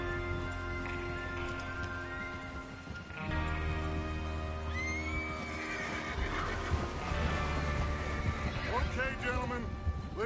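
A horse whinnies amid Red Dead Redemption 2 game sounds, with hoof clops and rumbling background music; a short rising neigh stands out near the middle and again later.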